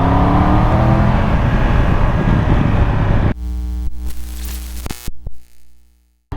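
A Triumph 1200 GT Pro motorcycle engine revs hard and loud with a quick shifter blipping between gears, then the roar cuts away to a lower, uneven engine note that fades out.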